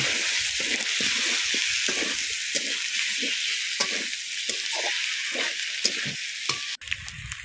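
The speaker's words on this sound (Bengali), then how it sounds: "এবারে আলুগুলো দিয়ে ভেজে নেব।" Potatoes frying in spiced oil in a wok: a loud, continuous close sizzle with crackling pops and stirring scrapes, ending in a brief clunk.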